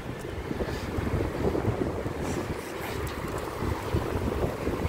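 Strong wind blows outdoors during a dog walk on a street, a steady, loud rush buffeting the microphone for the whole stretch, with no talk.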